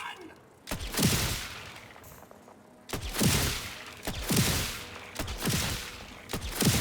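Gunfire in Borderlands 4, a rapid series of sharp, loud shots in close bursts with brief pauses between volleys, game effects ringing under them.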